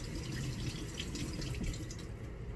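Tap water runs and splashes as a vintage vinyl doll toy is rinsed under it, a steady, fairly faint close-up flow.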